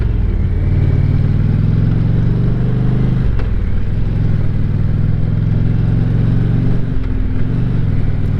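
An Indian Challenger motorcycle engine runs steadily while riding, a loud close low throbbing drone that shifts pitch slightly as the rider works the clutch, with no talk over it.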